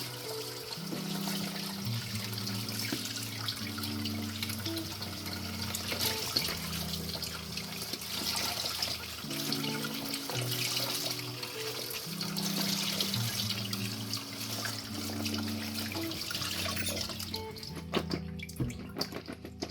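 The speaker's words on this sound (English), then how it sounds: "So now our veggies are all washed," Water runs steadily into a kitchen sink as vegetables are washed by hand, a continuous rushing trickle that carries on under a looping background tune.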